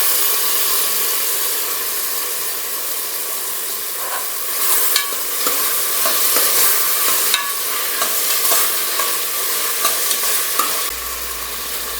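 Tomatoes hit a hot pan for rajma pulao and fry with a steady, loud sizzle, while a spoon stirs and scrapes through them with occasional sharp clinks against the pan.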